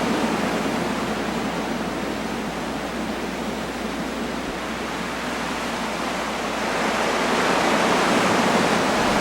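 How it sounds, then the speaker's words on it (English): Water-treatment filter being backwashed: a steady, loud torrent of rushing water forced backwards through the filter bed, a continuous roar that swells slightly toward the end, with no talking. "Then a torrent of water is released under the filter and forced backwards through the filter."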